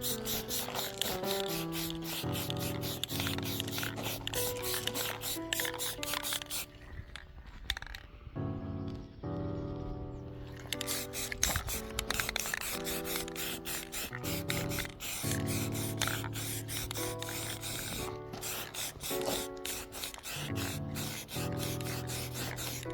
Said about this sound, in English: So before we start, yes, this is as fast as I spray.